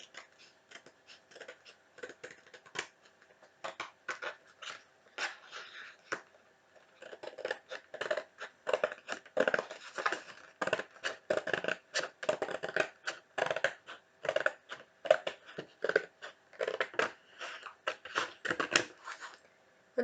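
Scissors snip through cardboard notebook cover pieces in a steady run of close, crisp cuts with short pauses, alone with no talking.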